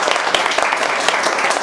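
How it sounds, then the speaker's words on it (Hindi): Dense, steady audience clapping for three students in a mobile repair training class, a brief close burst of many hands with no pause. "एक बार इन तीनों के लिए ताली बजाओ आप लोग यार।"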